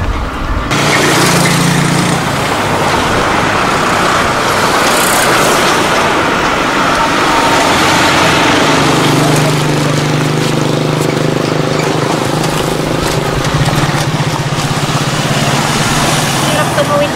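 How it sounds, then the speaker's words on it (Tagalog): Heavy traffic rumbles steadily across a concrete bridge in the Philippines, with engines droning close and loud and vehicles passing in a continuous wash of noise, no gaps between them. "Maraming sasakyan dumadaan eh."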